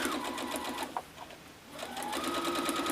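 A sewing machine chain piecing quilt units runs at steady speed, pauses briefly, then starts stitching again, a close rapid mechanical whir with no voices.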